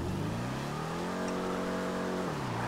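A stock muscle car in GTA 5 Online revs steadily at a constant loudness, its engine note rising and then falling away near the end of a short burst.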